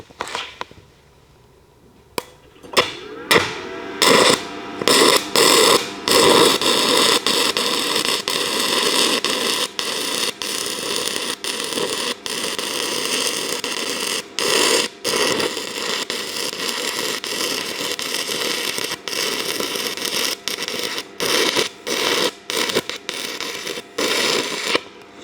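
Stick welding with a 6010 rod at about 90 amps on an Arccaptain TIG 205 Pro, a loud steady crackling hiss that keeps cutting out in abrupt gaps, sputtering back after each brief dropout.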